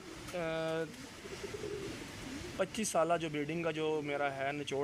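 Teddy pigeons coo in short, tonal bursts, one near the start and a fuller run in the second half, close by, with someone talking between and over them.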